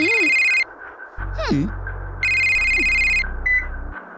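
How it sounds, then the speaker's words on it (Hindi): A telephone rings in two electronic bursts with beeping tones, while voices and other sounds play underneath between the rings. "अबे दिव्या का फोन है।"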